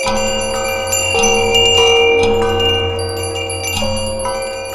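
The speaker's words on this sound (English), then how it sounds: "soon it rang out loudly, and so did every bell in the house" Several house bells ring loudly together in a sustained, overlapping clang, with fresh strikes layering over one another throughout.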